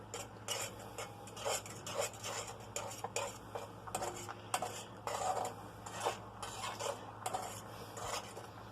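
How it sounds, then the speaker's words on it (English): Eggs are scrambled in a sixty-year-old cast iron skillet with a utensil that taps and scrapes the iron in an irregular run of light, close clicks over a faint steady background hum. "I'm going to try to scramble this up without hitting the surface too much"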